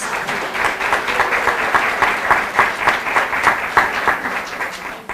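An audience at a Chamber of Commerce women in business expo gives a round of applause, dense steady clapping from many hands filling the room, loud and sustained throughout.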